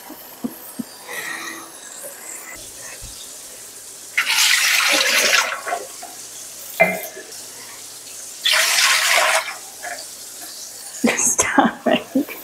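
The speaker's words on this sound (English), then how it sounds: "So my pressure canner manual says to put 3 quarts of water in." Water runs from a tap into a pressure canner in two separate bursts of gushing flow, close by, broken up by a person talking and some handling clatter.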